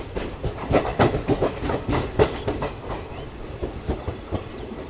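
An Indian passenger train pulls into Khurda Junction railway station in Odisha, its wheels clattering over rail joints in a steady, loud clickety-clack rhythm with no voices.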